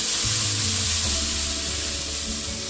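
Onion, green chillies and mint sautéing in a hot pan, a steady close sizzle and crackle throughout with faint stirring and no voice.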